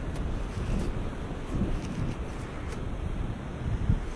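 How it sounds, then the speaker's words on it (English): Steady northeast wind of about 15 miles an hour at the beach, buffeting the microphone as a constant loud low rumble with gusts and a faint wash of surf behind it, no voices. "We've got a wind out of the northeast at about 15 miles an hour."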